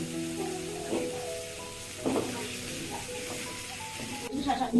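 Cucumbers dropped into a hot pan with onions for a Bangladeshi shrimp-and-dried-fish curry, giving a steady sizzle with a few louder stirring clatters and a voice talking over it.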